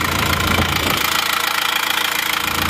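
An Isuzu Panther diesel engine idles warm at a steady, loud, close drone with a faint knocking rhythm running through it.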